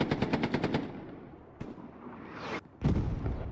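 Rapid automatic gunfire from the World War II shooter Hell Let Loose, a fast rattling burst at the start followed by scattered single shots and a sharp report near the end, loud and close with no talking.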